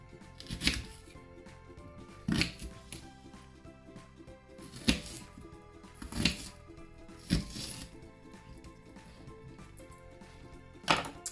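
Onions and red pepper are coarsely chopped on a cutting board for soup, with about eight sharp knife thunks at uneven intervals, close and fairly soft, over quiet kitchen background.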